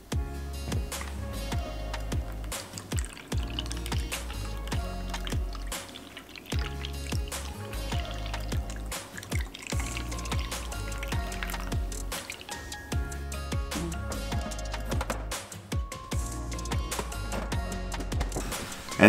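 Leftover brewed coffee is poured into an ice cube tray, making soft, close dribbling and dripping sounds. The trickles come in uneven bursts with brief gaps, and no one speaks.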